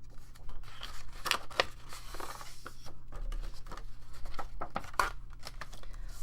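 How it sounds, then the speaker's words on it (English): Scissors snip slits into paper while a small spring paper basket is being made, with several sharp, crisp cuts and crinkling over a steady low hum, close and fairly loud. "we're going to cut those slits again"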